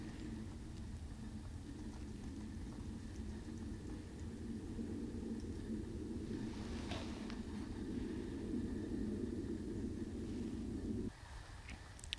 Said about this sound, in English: There goes another airplane actually right now.